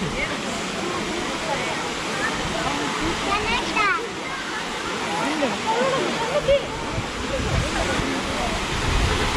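Honnammana Halla waterfall in Chikmagalur roars as a steady broadband rush of falling water, with voices talking over the continuous flow.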